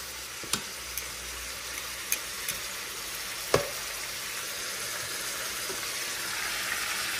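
Food frying in a pan, a steady close sizzle with a few sharp pops and clicks scattered through it.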